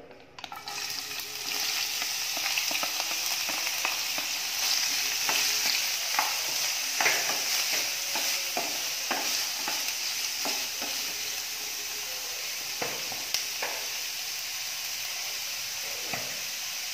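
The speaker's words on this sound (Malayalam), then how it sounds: "വെളിച്ചെണ്ണ ഒഴിച്ചു കൊടുക്കാം. ഇപ്പം നമുക്ക് ഉള്ളി ചേർത്ത് കൊടുക്കാം." Onions frying in hot coconut oil in a pan, a steady close sizzle that starts abruptly and holds throughout, with occasional clinks and stirring scrapes.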